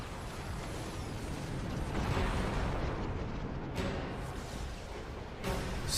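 Explosion in the video game Xenoblade Chronicles 2, a dense rumbling roar with heavy low booms, carrying steadily and swelling with a few sharper bursts, with no talk over it.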